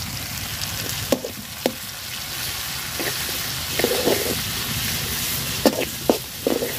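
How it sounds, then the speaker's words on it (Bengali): Garlic paste sizzling in hot oil with onion and chili, a constant hiss broken by a few clacks of a spoon stirring, close and fairly quiet. "রসুনটা আমি সুন্দর করে ভাজা নিচ্ছি"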